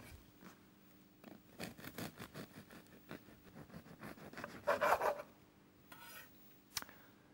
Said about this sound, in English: First, slice the bread.